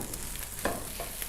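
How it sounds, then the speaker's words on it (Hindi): Capsicum and green chilli frying with chicken in a pan give a steady soft sizzle, broken by a few brief stirring scrapes. "शिमला मिर्च को हमने चिकन के साथ अच्छी तरह से भून लेना है"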